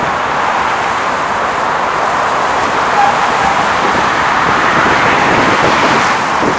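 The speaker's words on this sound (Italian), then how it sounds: "Ha un grande traffico di automobili, allora ha un forte ruito" Heavy car traffic streams across a bridge over the Neva River in Saint Petersburg, a loud, continuous roadway roar with steady broadband rumble, close and unbroken throughout.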